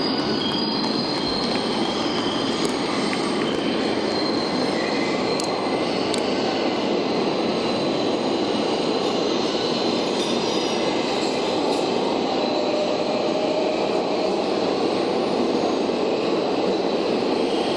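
A loud, steady rumble of a passing train with rail cars rolling continuously and faint wheel squeals on top, sustained without a break and with no voices.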